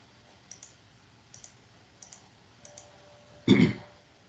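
Sharp mouse clicks in pairs, evenly spaced and fairly quiet, near and alone, ending in a louder muffled thump.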